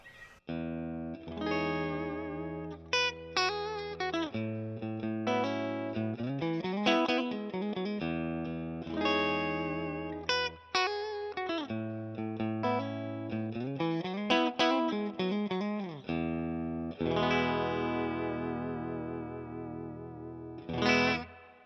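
PRS Private Stock Hollowbody II electric guitar with a tremolo and a bright, thin bridge-pickup split-coil tone, played in strummed chords and single-note lines with slides, steady and upfront with no talking.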